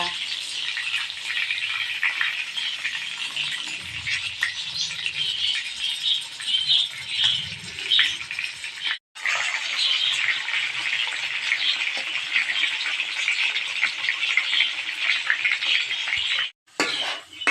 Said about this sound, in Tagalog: malapit na rin pong maluto itong ating nilulutong longganisa